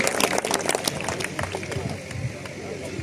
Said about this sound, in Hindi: तालियां ऐसे शख्सियत के लिए।